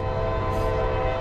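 A Norfolk Southern empty trash train leaving a junction gives off a dense, steady drone of horn and rail noise, loud and close, with no talking.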